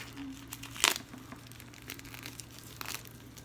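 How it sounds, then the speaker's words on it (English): Plastic protective film crinkles as it is peeled off a new Invicta Reserve Bolt Zeus watch, with a sharp crackle near the start and lighter rustles after it, close and quiet with no talking. "Let's get all this plastic up off of here first so we can see what we got"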